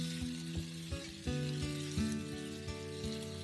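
Cheese bread dough fries in a covered frying pan, a soft steady sizzle with a few faint knocks and taps, quiet and close, no voices.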